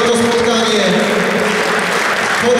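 Sustained applause from the audience at a table tennis match between Marek Badowski and Zheng Wang, a steady dense clatter of clapping throughout, with an amplified voice talking over it.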